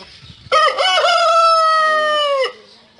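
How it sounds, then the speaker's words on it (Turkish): A rooster crows once, loud and close, a long drawn-out cock-a-doodle-doo lasting about two seconds. "Rozumuz ötüyor maşallah."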